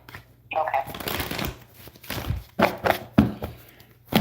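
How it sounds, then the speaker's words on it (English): Tarot cards being shuffled by hand during a live dream interpretation reading, a run of soft papery riffles and taps with sharper bursts near the end, close and fairly quiet, with no talking. "I've taken the liberty of shuffling these cards."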